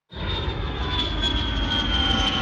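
Airplane engine droning steadily and loud throughout, a continuous broadband roar with a high whine on top, no voices.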